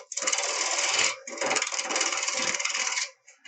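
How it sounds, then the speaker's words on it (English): A half-inch bowl gouge shaves a spinning natural-edge wooden bowl on a lathe, producing a steady, loud rasping cut that dips briefly near the one-second mark and then continues before stopping at the end. "Get a 1/2 inch bowl gouge and just whittle this down."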